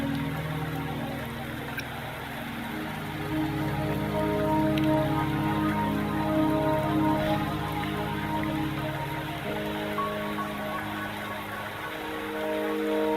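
Rain falls steadily on surfaces in a mountain scene of Wuthering Waves, a constant even patter under a soft musical drone, with no voices.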